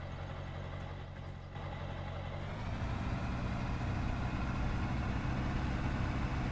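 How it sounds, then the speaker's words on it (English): A truck engine in Farming Simulator 17 idles with a heavy low rumble, then swells louder and steadier as it revs to move, a continuous close drone with no talk. "Let's see if my truck can pull one."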